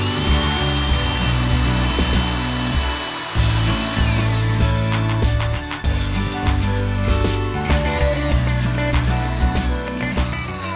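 An aluminum oxide drill bit grinds into a workpiece on a mill base with a loud, continuous whining drone that shifts in pitch as the cut deepens, close and steady without talk.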